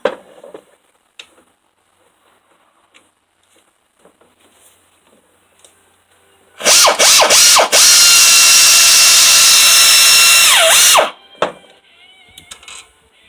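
Loud bursts of an air ratchet loosening a bolt at the rear of a vehicle during an alternator replacement: a few short stuttering bursts, then one sustained, harsh rattling run of about four seconds, with quiet garage noise before and after.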